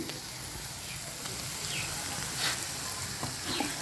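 Hilsa fish roe frying in a little mustard oil, a steady broadband sizzle with occasional brief crackles and pops, moderately quiet and continuous, with no voices over it.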